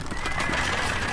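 A cavalry horse whinnies in the strategy game 0 A.D., a short steady neigh with no talk over it.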